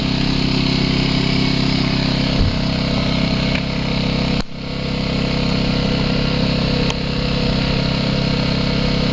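An AYERBE 1200i inverter generator runs loaded by a 1300 W angle grinder, a steady close engine drone with a brief dip midway, then it picks back up and holds constant with no talk.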